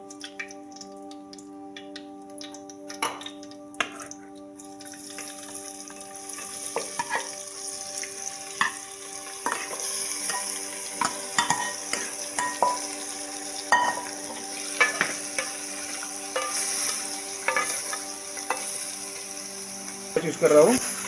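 Mutton sizzling with Champaran marinade masala in a pan, a continuous frying hiss with frequent clicks and scrapes of stirring, while a steady tone hums underneath early on.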